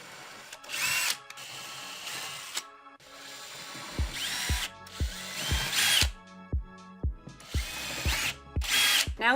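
A power drill pre-drills hinge holes in a thrifted artwork frame, whirring in several short, loud bursts that spin up and stop, with clicky pauses between them.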